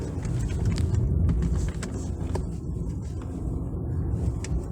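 A 2022 BMW 318i in sport mode accelerates at full throttle, its engine a loud, steady drone heard from inside the cabin, with a short dip partway through where the gear changes.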